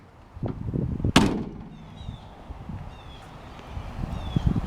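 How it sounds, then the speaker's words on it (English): The barn-style rear doors of a 2004 Chevrolet Express 3500 cargo van shut with one sharp, loud slam, and quiet rustling and light handling noises follow. "barn style doors in the back."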